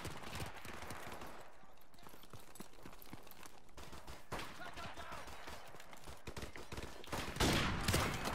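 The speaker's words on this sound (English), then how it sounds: "I'm getting shot from two directions." Gunfire in Call of Duty Modern Warfare Remastered, a steady run of sharp shots and bursts at moderate distance, with a louder burst near the end.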